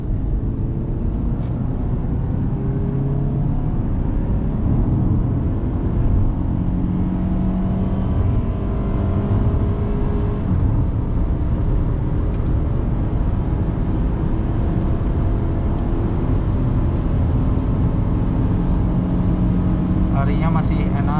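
A 2012 Honda CR-V accelerates on a road, its engine note rising in a long pull under steady road and wind noise heard from inside the cabin.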